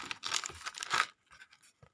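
Adhesive tape peeled from a cardboard-backed package holding a Thai 100-baht King Rama X commemorative banknote, a ripping tear about a second long followed by a few faint sticky pulls.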